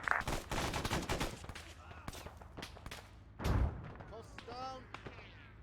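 Artillery fire in a military video game: sharp booms and crackling bursts of fire, several close together, with one heavy low blast midway, under ongoing voice chatter.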